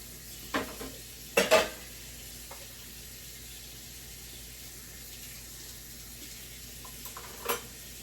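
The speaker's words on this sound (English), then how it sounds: "since I'm washing dishes, I might as well do all these dishes really quick" Dishes get washed at a kitchen sink, with a low steady run of tap water broken by a few sharp clinks and knocks of crockery, some grouped close together early on and a couple spaced later.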